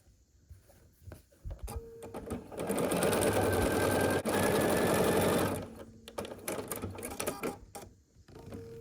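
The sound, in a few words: sewing machine stitching quilt block seam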